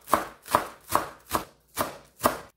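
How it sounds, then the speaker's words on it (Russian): Green onion is finely chopped with a knife on a board, six evenly spaced crisp chops at a steady pace, close and clear with no talking. "Мелко нарезаем."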